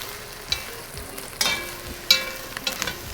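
Beef sizzling in a pan with garlic and onion for mami pares, a soft continuous frying crackle broken by a few sharp clinks and scrapes of a utensil, no voices.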